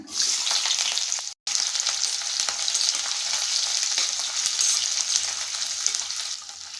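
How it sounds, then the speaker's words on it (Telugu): Onion pieces frying in hot oil with mustard and cumin seeds for a brinjal tomato curry, giving a loud, dense, continuous sizzle with a brief drop-out early on and no speech over it. "ఉల్లిపాయ ముక్కలని దూరగా వేయించుకోవాలి"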